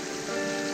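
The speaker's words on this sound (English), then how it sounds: "it's raining pretty good now" Rain falls steadily on a hiking trail in the Pecos Wilderness, a dense, even patter filling the brief moment with no voices.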